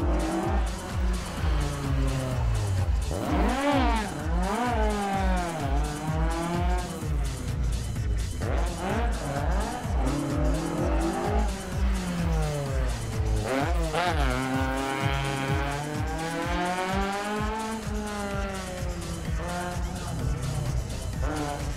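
A rally car on a closed stage of the Rallye du Chablais near Champéry, its engine revving hard and rising and falling through repeated gear changes, with tire squeal, loud and close throughout.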